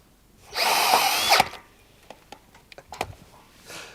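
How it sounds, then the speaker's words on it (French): A power drill runs in one sustained burst, driving screws into a steel splice plate joining two deck beams of a wooden terrace on a steel frame, followed by scattered light taps and clicks. "on va visser avec 4 vis de chaque côté pour avoir une rigidité maximale"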